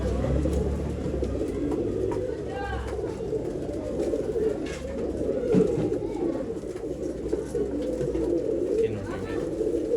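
Pigeons coo softly and repeatedly at a breeding stall, with a low continuous murmur of the flock mixed with background chatter and ambient noise throughout.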